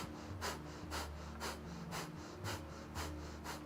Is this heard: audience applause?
no